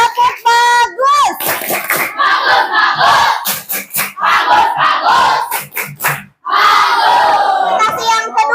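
An Indonesian classroom of students performs the rhythmic "tepuk bagus" clapping cheer, loud and close, with patterned claps mixed with shouted chanting voices throughout.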